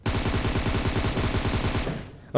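Rapid automatic gunfire in PUBG Mobile rattles continuously for about two seconds, loud and dense, then cuts off abruptly with a brief sound at the very end.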